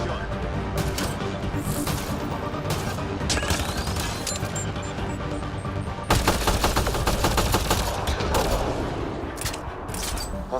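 Rapid gunfire from the video game Mass Effect Andromeda on Xbox One, dense bursts of automatic shots and sharp cracks, loud and continuous, intensifying in a heavy volley midway.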